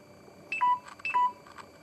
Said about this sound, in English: That's my phone telling me it's all on low battery.